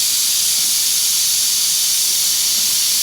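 Steam hisses loudly and steadily as pressure is let out of an Afghan cauldron cooking meat. The sound is a close, continuous, unbroken high-pitched rush that fills the whole stretch, with no talking.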